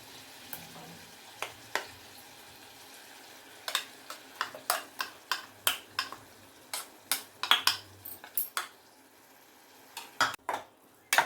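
Masala paste and tomatoes frying in oil as they are stirred in a pan for egg kurma, with steady soft sizzling under a run of sharp spatula scrapes and clicks against the pan, close and alone.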